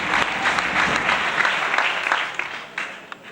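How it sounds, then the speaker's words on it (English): Applause from an audience at the Armitage Teacher Recognition and Award ceremony rises as a dense burst of clapping, then thins and fades with a few scattered claps toward the end. "Can you give him a round of applause?"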